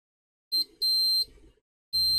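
A multimeter continuity tester beeps while probing a short circuit on an iPad 7 or iPhone X logic board: three sharp, high electronic beeps, the middle one longest, close and clear with no talk.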